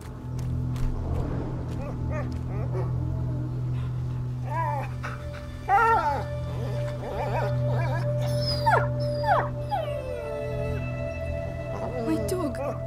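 A dog whimpers and yelps in distress during the opening of the video game A Plague Tale: Innocence, its thin, rising whines heard under a low droning score and game character voices.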